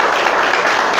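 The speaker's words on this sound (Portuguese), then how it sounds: "Vamos aplaudir o nome do Senhor." A church congregation applauding, a loud, steady wash of many hands clapping together with no break.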